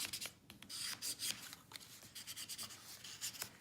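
Scored fold lines on a paper Easter treat box being burnished, a soft, close, uneven rubbing and scraping in short repeated strokes, quiet and with no voices.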